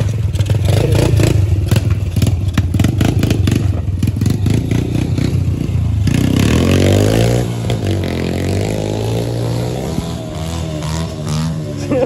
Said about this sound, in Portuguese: Esse motor aí é de 160?